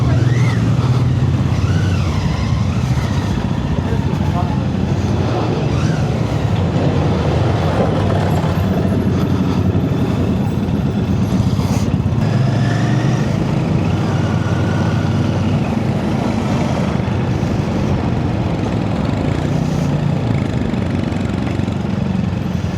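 Royal Enfield motorcycle engine on a test ride, a steady close single-cylinder thrum running continuously with slight rises in revs, alongside rushing wind.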